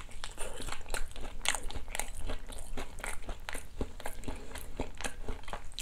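Crunchy bites into half-and-half fried and seasoned chicken repeat in a steady rhythm, loud and close with crisp crackles between chews, and no talking.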